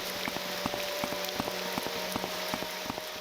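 Steady rain downpour in the game Morrowind, a dense continuous hiss of falling water with scattered drop taps, even and unbroken throughout.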